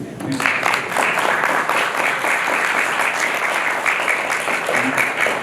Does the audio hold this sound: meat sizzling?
no